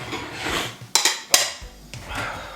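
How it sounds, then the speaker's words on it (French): Dishes and cutlery clatter as a dishwasher is emptied at home, with two sharp clinking bursts of crockery and metal over low background rustle. "là je vais vider le lave-vaisselle"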